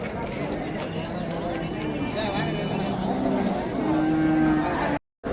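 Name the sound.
bulls at a cattle market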